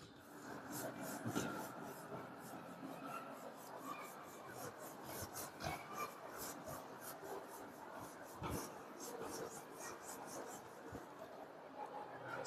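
Steady rasping strokes of an eraser rubbing writing off a board during a maths lesson, continuous and fairly close, with a few sharper scrubbing bursts and no talk over it.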